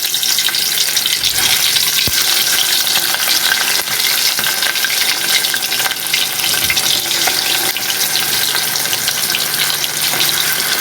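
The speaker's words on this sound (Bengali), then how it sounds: "আমি হচ্ছে মেখে রাখা মাছগুলো এখন তেলের মধ্যে ছেড়ে দিব।" Marinated fish sizzles and crackles steadily in hot oil, a dense, continuous frying hiss with occasional sharper pops, close and loud without any voices.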